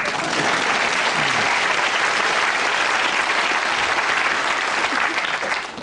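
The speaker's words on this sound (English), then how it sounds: "Round of applause." Studio audience of a British TV comedy panel quiz clapping in a sustained, dense round of applause that holds steady throughout and dips slightly at the very end, with no talking over it.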